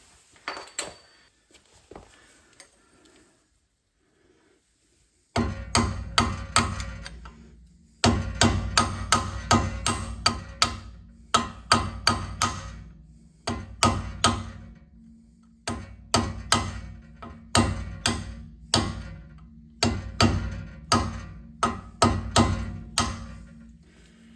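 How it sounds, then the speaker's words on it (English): A flat edge hammer strikes metal while changing a brake disc on a Land Rover Defender, repeated loud, ringing blows grouped in rhythmic bursts after a quiet start. "That's a flat edge hammer. I should bend that over nicely."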